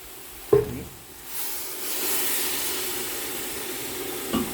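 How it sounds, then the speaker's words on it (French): A pan of crayfish browned with vegetables hisses and sizzles as white wine goes in, with a sharp clink at the start, a swelling steamy hiss in the middle and another light knock near the end. "Je vais déglacer avec le vin blanc."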